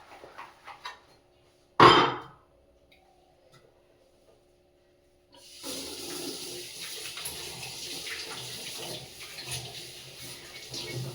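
A kitchen tap fed by hot water from a geyser runs while dishes are washed, with a sharp clatter early on, then a faint, steady stream of water flowing from the midpoint on.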